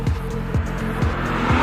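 The turbocharged six-cylinder engine of a BMW M340i xDrive sedan drones steadily and loudly under boost, with a repeating pulsing rhythm as it pulls hard.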